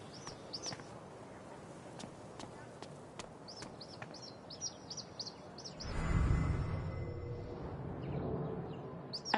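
A hawk in Life is Strange: True Colors gives a series of short, sharp high-pitched cries, repeated in quick bursts over a faint outdoor bed, followed by a rumbling gust of noise.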